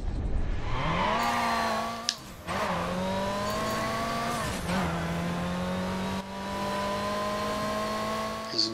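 Game cars race and drift in Midnight Club Los Angeles: a loud engine climbs through several gear shifts, with brief sharp breaks and squeals between pulls, staying close and continuous.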